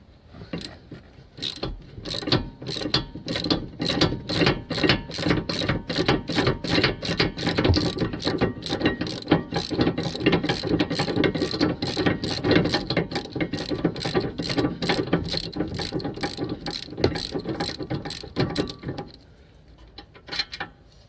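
A ratchet with a 30mm socket cranks loose the rear brake caliper bolts on a Vauxhall Mokka, a rapid, steady run of close, sharp clicks lasting around twenty seconds before it stops.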